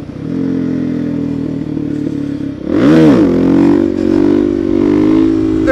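A supermoto motorcycle engine roars close up, holding a steady drone, then revving sharply up and down through a gear change with rising and falling pitch, loud and continuous.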